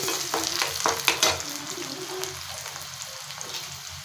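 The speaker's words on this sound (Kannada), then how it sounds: "ಸಾಸಿವೆ ಎಲ್ಲ ತಿರುಗಿ ಈರುಳ್ಳಿ ಹಾಕೋಣ." Onions tossed into hot oil with popping mustard seeds, a dense close sizzle with stirring scrapes at the start that settles into a steady, softer frying hiss.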